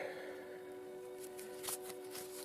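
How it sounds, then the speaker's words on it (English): A deck of tarot-style playing cards being cut and shuffled by hand, quiet riffling and soft slaps in a few brief bursts over a steady faint hum. "cut the deck"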